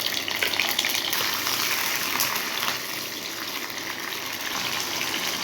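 Onion, garlic and ginger paste sautéing in hot oil while cooking a pabda fish curry with potato and tomato, giving a steady, loud, dense sizzle that runs unbroken throughout with no talking.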